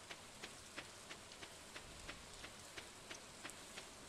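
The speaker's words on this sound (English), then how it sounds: "It's so relaxing with the rain here." Rain falls steadily in the farming game Stardew Valley, a soft, constant hiss with faint, regularly spaced droplet taps, quiet and with no voices over it.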